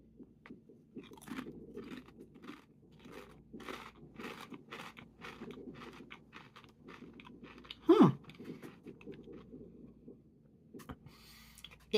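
Crisp, close crunching of a garlicky, grainy pita-style snack chip, with repeated bites and steady chewing and one louder crunch partway through, heard alone in a quiet room.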